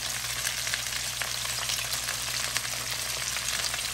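Brown sugar chicken thighs fry in a pan with a dense, continuous sizzle that stays close and steady, with no talking.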